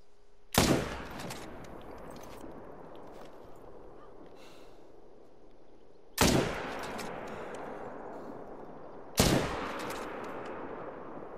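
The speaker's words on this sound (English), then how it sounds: "hopefully these guys don't hear the gunshot" Three loud rifle shots in a hunting video game ring out several seconds apart during an elk hunt, each with a sharp crack and a long rolling echo over quiet outdoor ambience.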